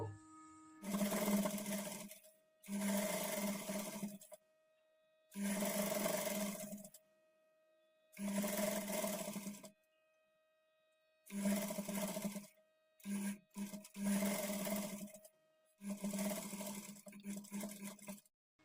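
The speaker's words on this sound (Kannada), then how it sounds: "ಈಗ ಇಲ್ಲಿಂದ ಈ ಕಡೆ ಎಜ್ಜಿಗೆ ಸ್ಟಿಚ್ ಮಾಡ್ಕೊಳ್ತಾ ಬರಬೇಕು" A sewing machine stitches along the edge of a designer front-slit kurti in a series of bursts of steady whirring, each a second or two long, separated by short pauses while the fabric is turned; no voices.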